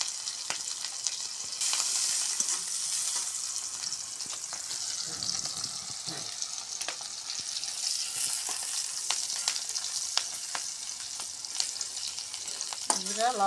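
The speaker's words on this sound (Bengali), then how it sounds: "এখন কড়াইয়ের মধ্যে আর একটু তেল দিব, কিছু দিয়ে দিলাম, কয়েকটা কাঁচামরিচ দিয়ে দিলাম" Green chilies frying in hot oil in a wok for potato dal, a steady close sizzle and crackle with occasional stirring scrapes, with no talk.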